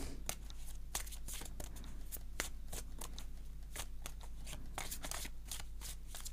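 A deck of oracle cards is cut and handled close up, giving a quiet run of crisp, irregular card slaps and riffles over a low steady hum, no talking.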